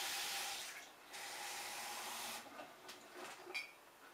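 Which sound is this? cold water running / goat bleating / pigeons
cold water running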